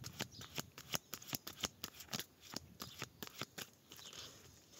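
A deck of tarot cards is cut and riffled, giving a rapid run of crisp, papery clicks and flutters close by, fairly quiet, with no talking.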